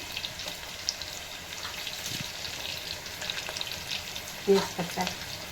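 Mustard seeds, curry leaves and chilies fry in hot oil for a masoor rice dish, giving a steady close sizzling hiss with scattered small pops and a few brief stirring scrapes, no voices.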